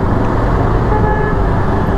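Dense road traffic in Delhi heard from a motorcycle, a loud steady roar of engines and road noise with faint horn toots mixed in.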